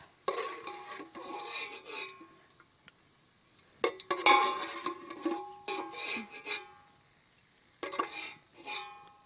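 Raisins frying in a pan for biryani are stirred with a metal spoon, giving bursts of scraping and clinking against the pan, loud and close, separated by short pauses.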